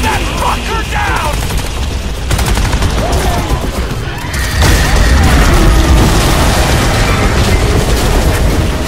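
Sustained heavy gunfire in a Crysis 2 battle scene, a loud continuous wall of automatic shots and booming impacts that swells partway through, with voices shouting under the din.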